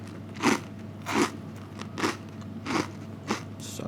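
Crunchy golden toasted bread bitten into five times at a steady pace, each bite a loud, close, crackling crunch with brief pauses between and no talking.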